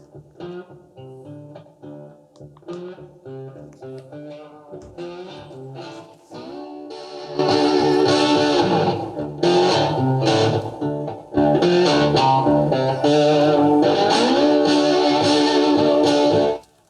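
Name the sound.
distorted electric guitar played through Philips Reverbeo radio via Bluetooth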